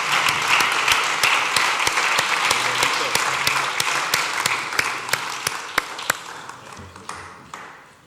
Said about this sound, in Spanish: Un aplauso también para Víctor.